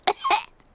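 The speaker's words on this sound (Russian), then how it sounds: "У меня кашель." A cartoon character coughs, sounding like a Peppa Pig-style animated voice: two close, rough bursts in under half a second, then quiet.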